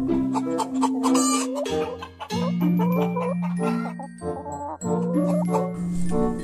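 Chickens cluck in a repeated, busy run of short calls with a faint jingle or tinkle, loud and close, no talking.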